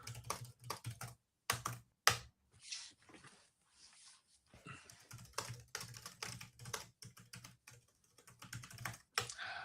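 Fingers tap on a computer keyboard in quick, uneven bursts of close keystrokes separated by short pauses, with a dog faintly whimpering in the background.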